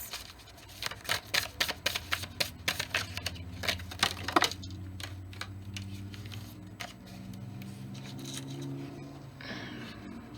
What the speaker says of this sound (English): We'll try to get a shuffle with these moon cards